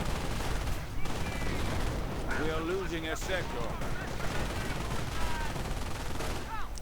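Video game battle in Company of Heroes between infantry and a half-track, with dense overlapping gunfire and machine-gun bursts mixed with explosions, constant and busy, while a commentator talks over the action.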